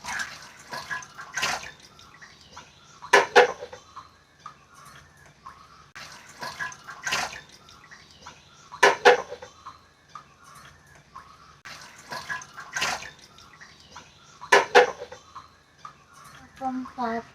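Pot being washed under running water, intermittent splashing gushes of a few seconds each with quieter gaps between, fairly close, with faint birds in the background.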